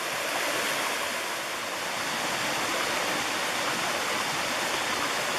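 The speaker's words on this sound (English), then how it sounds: "But isn't that pretty little waterfalls?" A small waterfall in the Appalachian Mountains of North Carolina rushes in a steady, dense, close roar of falling water that fills the whole clip without pause.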